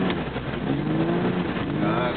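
A car engine revs hard during drifting at a 2009 Weeze event, a continuous loud roar with rising and falling pitch, heard nearby while someone talks over it.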